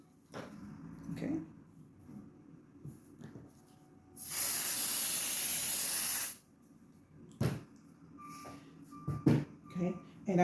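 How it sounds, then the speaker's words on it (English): A steady, close hiss of an aerosol spray can lasting about two seconds, with quiet handling noises and brief sounds before and after. "I'm going to spray."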